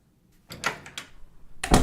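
A door opens in a vintage-style radio drama sound effect: a creak and latch clatter near the start, then a second sharp knock or bang near the end, close and clear.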